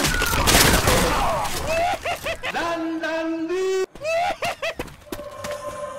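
Gunfire in the zombie shooter Left 4 Dead 2: a dense, loud burst of rapid shots opens the clip, followed by high whining and yelping game sounds and short sharp bangs.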